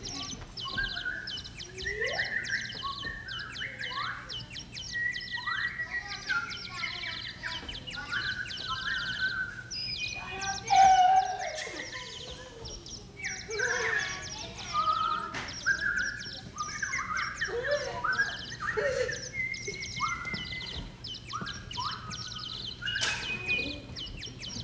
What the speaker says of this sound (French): Oh, un oiseau, j'adore les animaux.